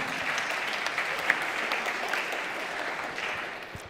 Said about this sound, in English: Round of applause for Round One.